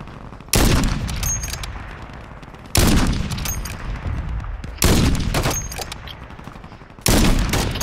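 Four loud, sharp sniper rifle shots in the Call of Duty video game, spaced about two seconds apart, each followed by a booming echo that fades before the next.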